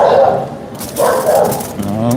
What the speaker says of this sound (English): Oh, we got some hungry doggies out here.